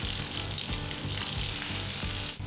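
Thick cut of pork pan-frying, a steady loud sizzle hissing throughout with faint rhythmic low clicks underneath, close up and with no voices.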